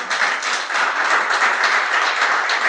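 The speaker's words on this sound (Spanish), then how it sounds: "¿Cuántos aplauden al Señor?" Church congregation applauding in a full, continuous burst of clapping that stays loud and even throughout, with little else heard.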